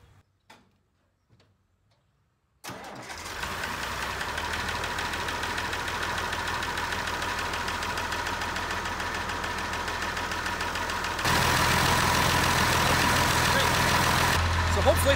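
Massey Ferguson 1100-series tractor engine cranking and firing up after a few quiet clicks, then running with a steady, loud diesel clatter that rises in pitch and volume as it revs late on.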